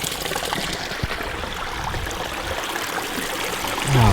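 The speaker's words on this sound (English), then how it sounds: "there's a spring right here coming down from the glacier" Glacier-fed spring stream running down a mountainside, a steady close rush and trickle of clear water that stays loud throughout, with a brief low gust at the very end and no talking.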